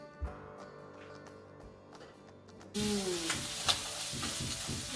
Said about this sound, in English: this sausage is getting nice and brown. Just going to break it up